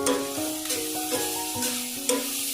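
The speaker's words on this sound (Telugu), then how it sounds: "క్యారెట్ యాడ్ చేసిన తర్వాత ఎక్కువ టైం ఏం పట్టదండి, వితిన్ 2 minutesలో బాగా ఫ్రై అయిపోతాయి" Grated carrot fries and sizzles steadily in a pan while being stirred, with clinks and scraping pulses from the spoon recurring every half second or so over a continuous close crackle.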